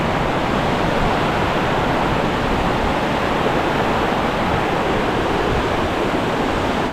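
Water rushes continuously through the deep, narrow Aare Gorge canyon in Switzerland, a loud, steady, unbroken roar that fills the whole stretch with no voices.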